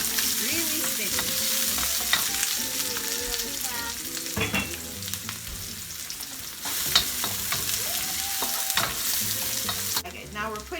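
Chopped onion sizzles steadily in a hot home-kitchen pan for chow mein, with stirring clatters throughout and some tonal background sound running underneath.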